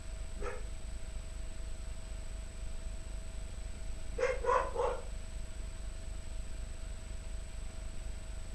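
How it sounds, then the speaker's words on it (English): A dog barks a few times at a distance, one short bark early and then a quick cluster of three or four barks, faint over a steady background hiss during a quiet meditation setting. "when we hear barking dogs or sounds that we don't like"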